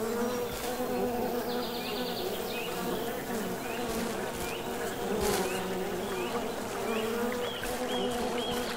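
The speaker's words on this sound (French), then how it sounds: "Pourquoi il y a autant de mouches ici?" A dense, steady swarm of flies drones continuously in the horror game Siren Head: Resurrection, a close, loud buzzing mass with no talk over it.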